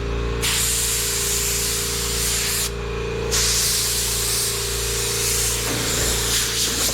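Spray gun painting a car bumper cover in an auto repair shop, a steady close hiss broken by two short pauses, with a low mechanical hum underneath and no voices.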